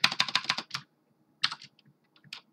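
Fast typing on a computer keyboard: a quick run of close, crisp key clicks, a short pause, then a few scattered taps.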